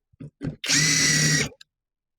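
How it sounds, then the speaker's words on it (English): A budget GoYwato impact drill spins up in a couple of short bursts, then runs in one loud, close whine for about a second while drilling holes before cutting off. "And we're going to drill some holes."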